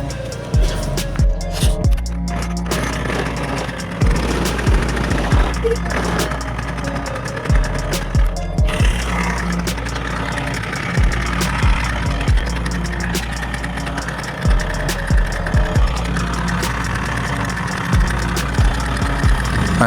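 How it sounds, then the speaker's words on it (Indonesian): A Vespa Excel 150 scooter with its starter dynamo wiring under repair runs its small engine at a close, loud, uneven idle, with regular low throbbing pulses and some rattling throughout. "Nah ini sekarang kita tinggal coba nyalakan motor ya teman-teman ya."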